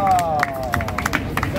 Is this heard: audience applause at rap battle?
yes